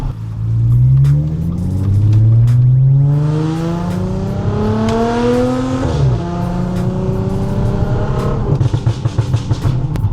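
An Audi S4 B8.5 3.0T engine revs hard with exhaust valves open, a loud, raw note, pitch climbing through several gear shifts, then crackling and popping as it settles near the end.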